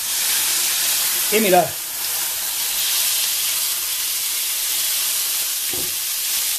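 Vinegar poured into a hot pan, a steady bright hiss and sizzle that runs throughout, fairly loud and close, with a voice speaking briefly over it.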